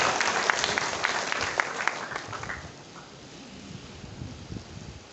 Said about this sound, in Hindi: एक बार जोरदार तालियां बजा लीजिए आप अपने लिए, अपनी कमिटमेंट के लिए कि मैंने करना है